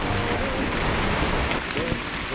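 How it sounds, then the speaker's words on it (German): Heavy rain pours down steadily in a dense, close hiss on a cycling camping trip, with no other sound standing out. "Bisschen Regen hat sich jetzt doch eher als ziemlich viel Regen rausgestellt."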